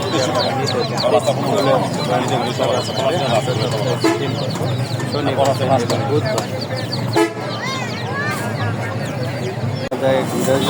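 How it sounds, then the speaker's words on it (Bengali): Roosters and chickens cluck and crow at a busy poultry market, under near-constant talk from people, with car horns honking in the background. "মোরগের কালেকশন"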